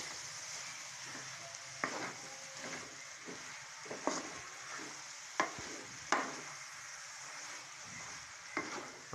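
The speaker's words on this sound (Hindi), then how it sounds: "हम इसे अच्छी तरह हिला लेंगे ताकि ये दही इसके अंदर पूरी तरह अच्छी तरह मिक्स हो जाए" Yogurt is stirred into a bottle gourd and chicken curry, with a utensil scraping and knocking against the pot over a steady background sizzle. Sharp clicks land irregularly every second or two, and no one speaks.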